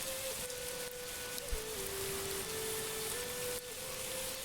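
Steady rainfall on a muddy medieval village in Manor Lords hisses softly and evenly throughout, with a faint sustained tone running beneath it and no voices.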